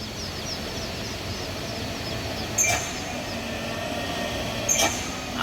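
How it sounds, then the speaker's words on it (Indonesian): An Isuzu truck engine straining and losing power on a steep climb gives a steady, heavy, droning rumble with two brief louder bursts partway through. "Habis napasnya truk Isuzu ini."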